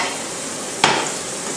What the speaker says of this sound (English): When you can smell them frying